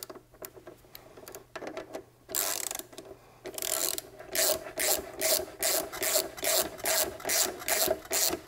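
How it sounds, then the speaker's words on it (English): Hand ratchet tightening an exhaust bolt on a Yamaha T7 motorcycle during a high exhaust install, rapid clicking strokes in repeated bursts, close and clear, with no talk. "we're going to tighten that bolt"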